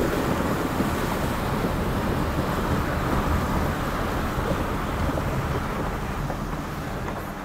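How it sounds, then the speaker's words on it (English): Vehicle crossing a shallow, rocky-bottomed creek on an overlanding trail in Georgia's Chattahoochee-Oconee National Forest, a continuous rushing of water and engine rumble that fades slightly toward the end, with no voices. "We're going back across this little creek."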